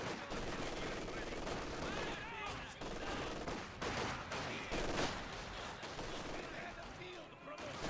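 Machine gun fire from an MG team in Company of Heroes 2 chatters steadily beneath dense battle noise and scattered distant blasts, continuous for the whole stretch with no clear pauses.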